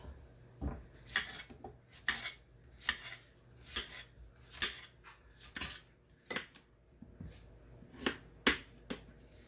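A knife chops through the ends of a locally grown zucchini on a cutting board, giving about ten sharp, evenly spaced cuts, close and crisp, with no talking.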